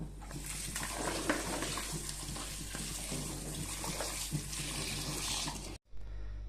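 Chopped hog plums washed under running tap water, a steady splashing gush with small clatters of fruit that cuts off abruptly near the end.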